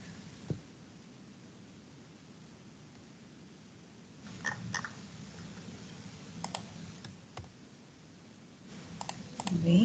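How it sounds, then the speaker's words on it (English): Keys clatter on a computer keyboard in short bursts of quick clicks separated by quiet pauses, close and fairly soft over a low room hum, growing busier toward the end. "It's typing time, I think I am taking."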